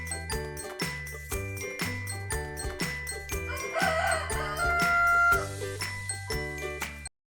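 A hen's sounds recur in a steady rhythm of short calls, clear and close, set against a bright, tuneful backing with no talk.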